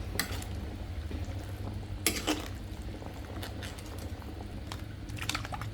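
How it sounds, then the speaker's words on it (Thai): A spoon stirs catfish curry broth with vegetables in a pot in a small rented-room kitchen, soft, faint scrapes and sloshes with a few sharper clicks against the pot over low background noise. "คนได้เลยนะครับผม"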